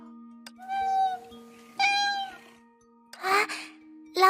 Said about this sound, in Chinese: 嘿，你们快看，是彩色的小猫。